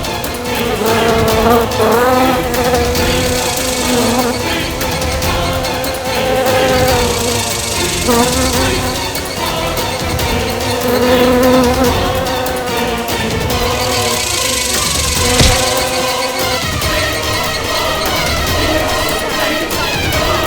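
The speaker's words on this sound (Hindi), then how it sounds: "ये मक्खी आपको कुछ नहीं करेगी।" Housefly buzzing steadily and loudly close up, its drone swelling and fading in waves over about twenty seconds and heard alone without talk.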